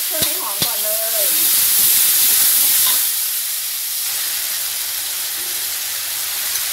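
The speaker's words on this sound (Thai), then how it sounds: "ผัดเครื่องให้หอมก่อนเลย" Seasonings such as oyster sauce, seasoning sauce, sugar and MSG stir-fried in a hot pan for Chinese celery with crispy fried catfish, opening with two sharp clanks of a utensil, then a steady loud hiss of sizzling with scraping stirs.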